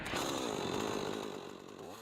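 A chainsaw carves a wooden sculpture from an old tree stump, its engine snarling loud and close and holding steady for the whole two seconds, with the pitch wavering as the blade bites into the wood.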